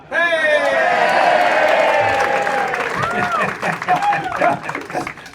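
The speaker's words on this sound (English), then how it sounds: "That's applause bigger than warranted." A live podcast audience in Somerville, MA breaks into applause and whoops, loud at first, then thinning as a voice talks over the fading claps.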